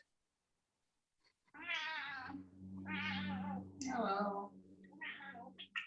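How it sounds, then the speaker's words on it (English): A house cat meows loudly and close by in a quiet room during a home yoga session. After a short silence come about four drawn-out meows in a row, and a voice briefly speaks near the end. "Is that someone's noisy cat?"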